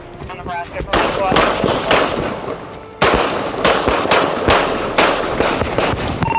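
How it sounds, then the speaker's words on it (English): A rapid series of sharp, loud gunshots rings out during a police chase, fired in uneven bursts with echoing cracks, and a voice is briefly audible in the opening moments. "2-1, shots fired."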